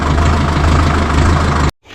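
A farm tractor's engine idles with a steady, loud, low rumble that holds even for almost two seconds, then cuts off abruptly into near silence.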